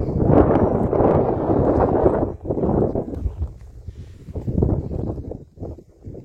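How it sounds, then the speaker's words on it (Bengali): Strong gusts of wind buffet the microphone in loud, rumbling bursts that rise and fall atop Mandala Top, about 10,000 feet up in Arunachal Pradesh. "হু হু করে হাওয়া বইছে।"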